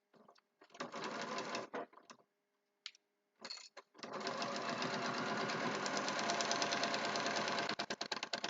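Sewing machine stitching fabric, with a few short bursts of stitching separated by pauses, then one long steady run of rapid mechanical clatter, close and fairly quiet, with no talking.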